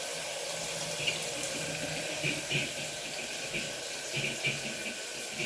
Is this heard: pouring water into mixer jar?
yes